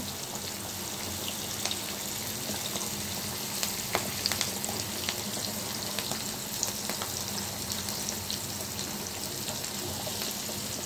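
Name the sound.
frying onion and dried red chili in hot oil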